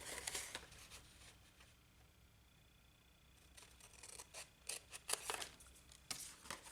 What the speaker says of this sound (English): And then in here, I'm just going to cut straight up this way.